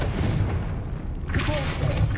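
Confringo blasting spell from the Hogwarts Legacy video game, a loud booming explosion with a low thump and crackling burst, about two seconds long over a dense game backdrop.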